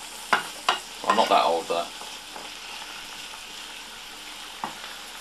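Mushrooms fry in margarine in a pan with a soft, steady sizzle. A voice speaks briefly over the cooking near the start.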